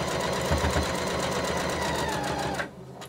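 A sewing machine stitches a fabric storage pouch for cloth masks in a fast, even mechanical patter that runs steadily and close, then stops abruptly near the end.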